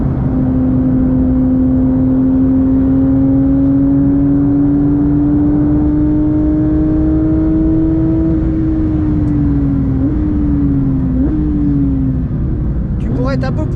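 A Porsche GT3 992.1 accelerates hard around the Spa circuit, engine note climbing steadily for several seconds before easing through gear changes, loud and continuous from inside the car.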